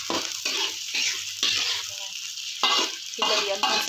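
Corn frying in a pan sizzles loudly as water hits it, with hissing bursts that come in waves under repeated stirring close by.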